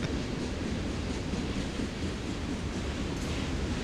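Freight train rolling past with a heavy flat car on six trucks, a dense continuous roar of wheels and rumbling wagons, loud and close throughout.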